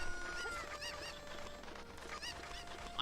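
Chicken clucking and squawking in The Legend of Zelda: Ocarina of Time, a run of short, honking cries repeating over game music, fairly close and moderately loud.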